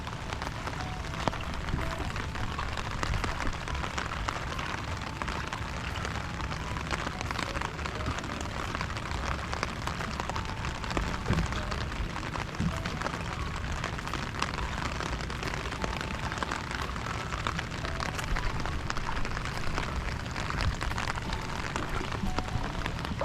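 Steady rain falls around a camp site, a dense, continuous hiss of drops pattering on surfaces with no break and no voices.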